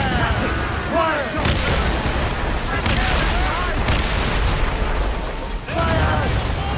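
Ship cannons fire in Assassin's Creed Rogue, repeated heavy booms and bursts in an irregular volley over constant battle noise, with shouted crew voices throughout.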